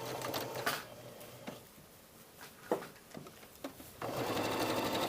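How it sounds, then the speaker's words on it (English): A sewing machine stitches a blouse sleeve at a 5/8 seam, running in a few short bursts of rapid mechanical whirring and clatter separated by pauses and small clicks, then settling into a longer continuous run near the end. "I need to sew it zigzagged. I'm going to sew 5/8."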